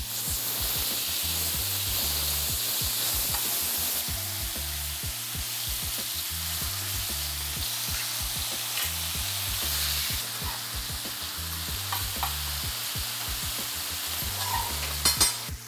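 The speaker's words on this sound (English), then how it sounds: "now we are going to just cook these marinated pieces of mutton" Marinated mutton pieces fry in oil and butter on a tawa, sending up a constant, dense sizzle with fine crackling and a low rhythmic hum beneath it. The frying stays close and steady, and no one speaks.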